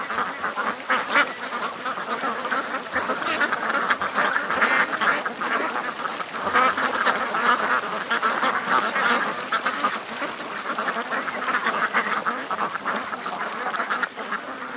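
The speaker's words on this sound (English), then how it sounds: "Oh, there's a bunch of geese coming back." A flock of geese calls continuously in a dense, overlapping chorus of honks and quacks, fairly near and loud, with no pauses across the stretch.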